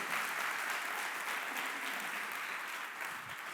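Church congregants applaud during a sermon, keeping up a continuous wash of clapping at a steady, fairly soft level that sounds spread out across the room.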